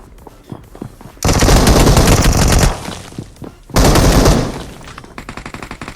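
Two long bursts of rapid automatic gunfire from PUBG Mobile, loud and dense, separated by a short pause with lighter clicks and shots around them.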